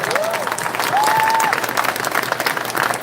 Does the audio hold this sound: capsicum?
no